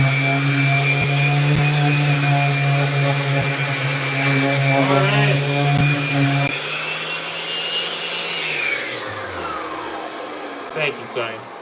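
A DeWalt power tool whines steadily at close range while it shapes a skateboard. Partway through it spins down, its pitch sliding lower as it winds off, and brief knocks follow.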